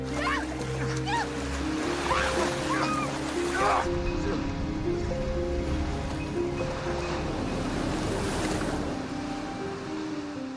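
Ocean waves at sea, with a steady rolling wash of surf and wind noise under music and a speaking voice throughout.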